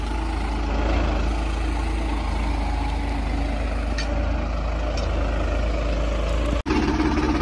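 An Eicher 1991 model tractor engine runs steadily at close range, a continuous low diesel rumble with no talk, broken by one sharp dropout near the end before the engine noise resumes.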